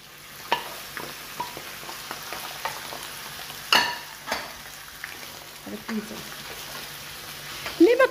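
Calamari hit a hot frying pan for seafood pasta, a soft steady sizzle with scattered clicks and scrapes of stirring, a sharper clatter near the end, recorded close and fairly quiet.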